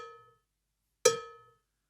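Bongos struck in a high-low pattern starting from the left hand: a ringing hit fades out, then after a short silence a second sharp, resonant strike rings and decays, close and clear.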